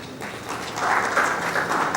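Applause from an audience at an academic lecture on the Indian Knowledge System, starting moderately and swelling into a steady, fairly distant patter of many hands clapping for about two seconds.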